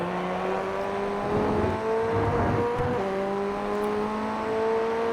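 FF1600 race car engine in iRacing at Circuito de Navarra, a steady close whining drone that dips as the car brakes and downshifts toward first gear, then climbs again.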